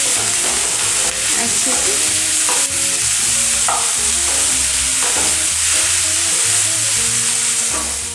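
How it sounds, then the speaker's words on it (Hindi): Onions frying in a pan for a small-fish curry, a loud, steady sizzle up close with frequent stirring scrapes and clinks, and a short spoken phrase near the end. "अब प्याज को यहाँ पर एकदम लाल लाल करके भूनना होगा"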